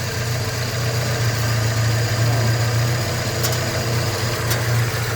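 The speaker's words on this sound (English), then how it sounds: "now that engine is running, it's just totally hot wired with just those basically 3 wires" A hot-wired Datsun 620 engine idles steadily with a low, even hum and faint vibration, running continuously with no voices over it.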